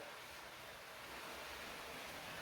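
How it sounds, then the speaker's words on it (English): Steady broadband rush of a waterfall running behind a home in Kailua, a constant wash of falling water heard at a moderate distance with no voices over it. "I love hearing that waterfall going on behind us."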